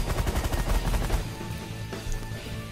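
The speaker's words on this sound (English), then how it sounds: "Minigun on auto fire." Minigun on automatic fire in The Last Federation space combat, a fast continuous stream of rapid shots that stops abruptly partway through, leaving a steady electronic hum and faint game effects.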